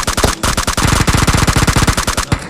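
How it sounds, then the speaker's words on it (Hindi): Rapid automatic gunfire from a bot in PUBG Mobile, a loud unbroken burst of close, evenly spaced shots lasting a couple of seconds with only a brief gap near the start. "मेरे को एक पीछे से फायरिंग साउंड सुनाई देती है।"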